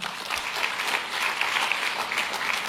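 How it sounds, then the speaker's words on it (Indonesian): Church congregation applauding, steady brisk clapping from a crowd that stays even and fairly loud throughout, with no talk. "Tepuk tangan buat Tuhan."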